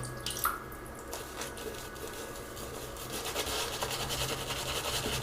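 Water is added to a shaving brush over a milk-based mint shaving soap stick, giving soft, faint trickling and dripping close by, with no talking.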